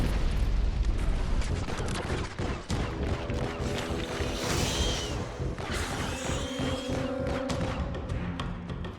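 Loud, dense video game explosions, booms and crashing blasts in quick succession, layered over a constant rumble, with a few tonal effects sustaining near the end.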